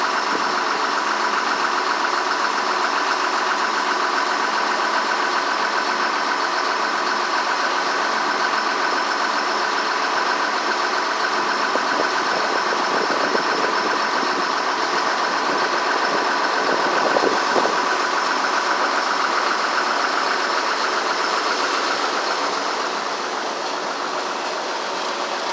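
Diesel engine of snow removal equipment idling, a steady loud droning hum that holds constant throughout and eases slightly near the end.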